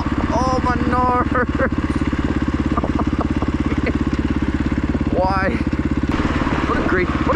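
A KTM supermoto motorcycle ridden on wet roads on an evening run makes a loud, close, steady engine putter with rapid rhythmic pulses throughout, while a rider talks intermittently over it.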